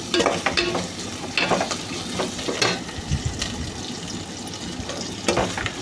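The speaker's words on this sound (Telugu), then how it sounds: "ఆనియన్స్ వేసి బాగా ఫ్రై చేసుకొని, అల్లం వెల్లుల్లి పేస్ట్ వేసుకొని ఫ్రై చేసి" Onions and ginger garlic paste fry in a pan for a mushroom curry, a steady close sizzle with repeated scraping stir strokes and occasional louder spatters, no voices.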